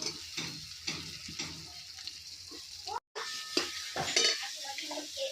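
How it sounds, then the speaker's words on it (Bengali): Spice masala with turmeric, cumin and coriander powders and tomato fries for a kokila fish tel jhal curry, with close stirring scrapes and clatter over a soft sizzle and a brief dropout midway. "এবার মশলাটা আমি ভালো করে কষিয়ে নেব"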